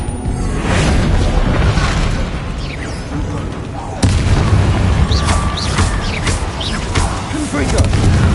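Explosions from the Bombarda spell in the video game Hogwarts Legacy, a loud, continuous rumbling barrage of booms with a sharp fresh blast halfway through.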